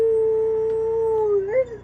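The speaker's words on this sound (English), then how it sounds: "The only thing I did have was Winnie howling over here" Dog howling, one long sustained, steady howl up close that wavers and breaks into a short rising yelp at the end.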